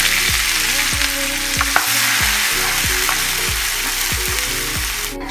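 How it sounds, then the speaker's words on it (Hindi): Crushed onion, with its peels, hits hot oil left from frying bitter gourd, giving a loud, steady sizzle with repeated clattering stirs against the pan and no talking. "इसी तेल में प्याज जो हमने प्याज क्रश करके रखी थी वो डाल देंगे।"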